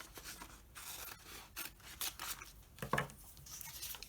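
Scissors snip and rub through a journal sticker page in a Stalogy notebook, a few quiet, close cuts with soft paper rustle between them.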